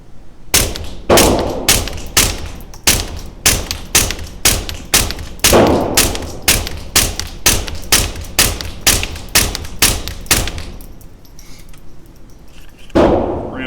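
A Sig P322 pistol with a red dot sight fires a long string of roughly twenty sharp shots in a quick steady rhythm, loud and close, followed by a pause and one final shot.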